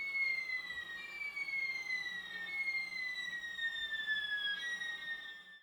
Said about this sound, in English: you get what is known as the seagull effect